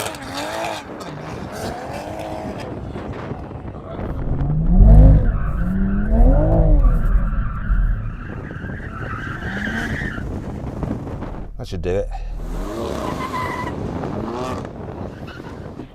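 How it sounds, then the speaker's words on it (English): Car tyres squeal and skid as a Toyota Supra or BMW M4 engine revs hard nearby to warm the tyres, rising and falling in pitch over several passes, with a short spoken remark partway through. "Now we need to warm up our tyres."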